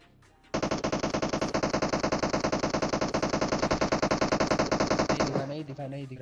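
Rapid automatic gunfire from a PUBG Mobile match, a loud sustained burst of fast, evenly spaced shots lasting about five seconds, then stopping abruptly with brief rustling afterward.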